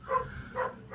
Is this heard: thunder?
no